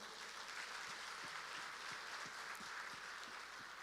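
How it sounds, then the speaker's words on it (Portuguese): A church congregation applauds during a sermon, producing a soft, continuous spread of clapping heard at a distance, fairly quiet and steady throughout. "Dê um aplauso ao Senhor."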